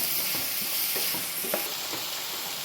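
Samosa filling with rock salt sautéed in a pan, a steady hiss of frying under repeated scraping strokes of a spoon stirring the mixture, close and continuous.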